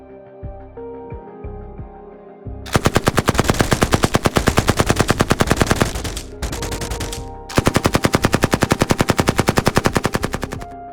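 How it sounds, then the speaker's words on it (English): Loud sustained machine gun fire in a reenactment of the 1929 St. Valentine's Day gangland massacre, two long rapid bursts after a brief lead-in, with a short pause between them. "More than 70 rounds were fired in seconds."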